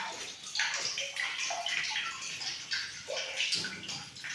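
Water runs from a tap into a container in a washroom, a steady splashing and gurgling rush with small shifts in tone as it fills, heard close and alone.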